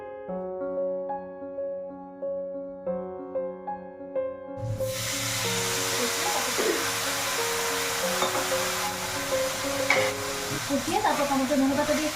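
Vegetables with tomato and coriander frying in a hot pan, a steady loud sizzle that starts abruptly after some music and carries on with stirring scrapes.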